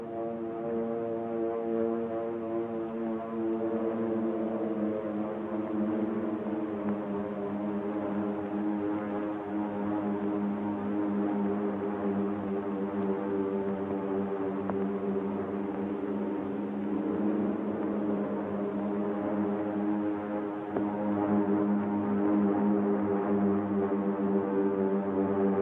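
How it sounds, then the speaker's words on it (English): Steady, continuous drone of approaching warplanes over the Pacific near Honolulu on the morning of December 7, 1941, with dense stacked engine harmonics. It stays loud and even throughout, swelling slightly toward the end, with no talk. "the drone of planes was faintly heard"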